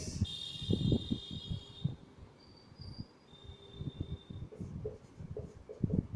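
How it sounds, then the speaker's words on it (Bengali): A pen scratches across paper while someone works through a math problem on inverse mappings, giving soft, close, irregular scraping strokes over a faint high background whine. "এটা লিখে দিচ্ছি"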